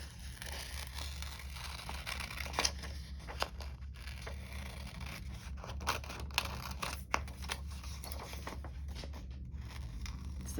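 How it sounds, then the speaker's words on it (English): Scissors snip through paper in short, quiet, irregular cuts close by, careful and slow, over a low steady room hum with no talk. "always so patient when I'm cutting stuff"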